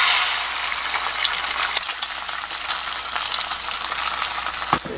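An egg frying in a little cooking oil in a pan, stirred lightly, gives a steady close-up sizzle with soft scraping and small crackles throughout.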